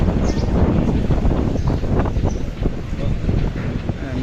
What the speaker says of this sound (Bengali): এখন প্রচুর পরিমাণ বাতাস